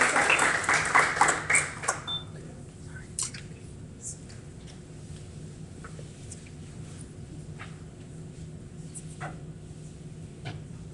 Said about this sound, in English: If we could give Laramie a round of applause.